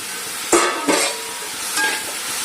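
Rinse water from the mixing bowl poured into a hot pan of chicken curry, a few loud bursts of hissing and splashing sizzle, close and alone, settling into a quieter simmer.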